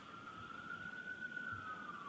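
A faint distant siren wails steadily with a slowly shifting pitch under low background rumble.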